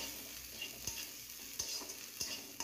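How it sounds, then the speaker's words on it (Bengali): Grated coconut frying and being stirred in a pan, a steady soft sizzle with a few light scrapes of the spoon, close and quiet, with no voices. "সেই নারকেল কোড়াটা এর মধ্যে দিয়ে ভালো করে কিন্তু ভেজে নেব"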